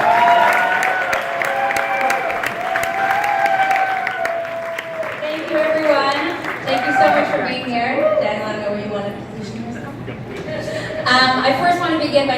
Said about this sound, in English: Please join me in giving a warm round of applause for tonight's dinner honorees